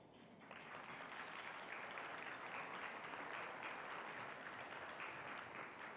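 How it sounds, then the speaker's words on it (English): Steady applause from a lecture audience at an academic women's caucus event, a dense sustained wash of clapping that holds evenly for several seconds without voices over it. "I would like us to applaud Kina."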